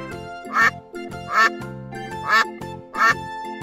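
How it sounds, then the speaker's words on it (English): A duck quacks four times at an even pace, close and clear, each call a short raspy honk. "Duck is a very cute animal."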